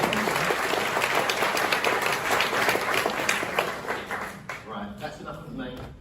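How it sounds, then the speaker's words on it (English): Audience applause at a startup accelerator pitch day, a dense wash of clapping that fills the room, then thins and tapers toward the end as scattered voices come through. "So can we get a round of applause?"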